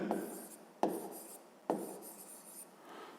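Pen or pencil writing out a fifth-grade math exercise on paper, three short scratchy bursts of close, dry scribbling separated by brief pauses, with no talking.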